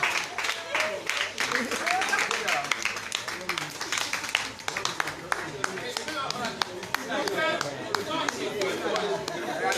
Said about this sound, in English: A round of applause for him for coming this far.